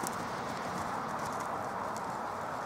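Pony hooves clip-clopping steadily on an arena surface during a dressage training session, a soft continuous rhythmic patter at moderate distance with no talk over it.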